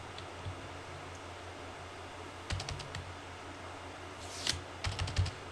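Computer keyboard typing during a game-engine coding lesson, heard as two short bursts of quick key clicks over faint steady background hiss, with no talking.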